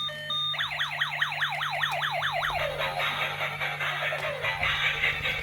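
A toy ambulance blares a rapid electronic wailing siren, its pitch sweeping up and down about a dozen times, then shifts to a buzzy warbling tone, loud and close.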